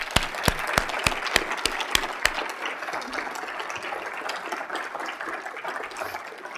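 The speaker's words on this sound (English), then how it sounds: "Let's give our elected officials a round of applause." An audience at a civic forum in Sioux Falls applauds its elected officials, opening with a few sharp, distinct claps that quickly swell into steady, dense clapping from the whole room, then hold there.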